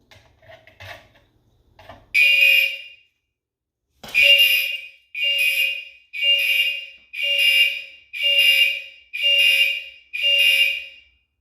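After a few faint knocks, a fire alarm sounds loud, shrill beeping repeated in a regular on-off pattern, seven or eight long pulses.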